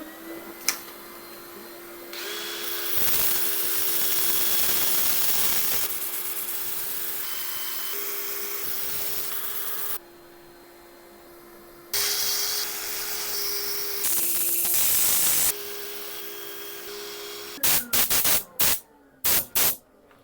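A turned London plane wood bowl is sanded on a spinning lathe, a steady motor whine and hum under shifting abrasive hiss that changes as the sanding paper is pressed and lifted. It ends in a few choppy bursts as the lathe stops.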